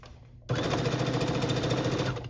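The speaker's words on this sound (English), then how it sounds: "to sew a dart, we start at the top of the line" Sewing machine stitching a dart in fabric for a sleeveless top or pants, starting abruptly and running at a fast, even mechanical whir with rapid needle ticking, close and steady.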